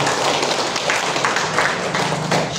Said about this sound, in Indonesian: Tepuk tangan dulu untuk Pegadaian Kota Palopo